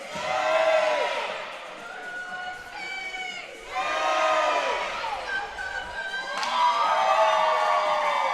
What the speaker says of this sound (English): Boise State chant rings out around Idaho Ice World.